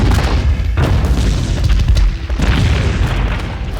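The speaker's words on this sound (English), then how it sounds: "turned the first missile back on the rest, causing them all to detonate in the atmosphere." Missiles detonating high in the atmosphere in the Captain Marvel film: loud, continuous booming and rumbling explosions with overlapping deep blasts throughout, no speech.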